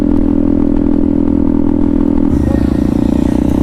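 A motorcycle does a wheelie, its engine loud and near, holding a steady drone that shifts to a harsher, rising rev partway through.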